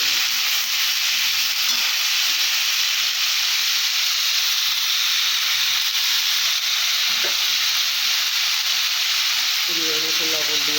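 Potatoes and chilli frying in hot oil, a steady dense sizzle with light stirring scrapes throughout, close and continuous; the crackle grows brighter and more spattery near the end.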